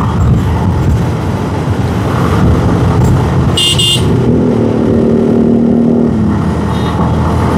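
Motorcycle cruising on a highway at roughly 85 km/h, steady engine drone and road roar filling the whole stretch, a brief horn-like tone near the middle and a rising engine whine toward the end.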